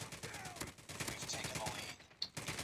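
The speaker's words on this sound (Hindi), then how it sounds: "मशीन गन थोड़ी लेट चलती है" Machine gun firing in Call of Duty Mobile team deathmatch on the Shipment map, rapid bursts of gunfire throughout the short stretch with voices talking over it.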